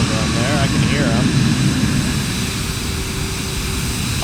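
Airliner engines in Microsoft Flight Simulator 2024 on a Paris-area runway spool up for takeoff, a loud steady roar with broadband rumble held throughout, a voice speaking briefly over it early on.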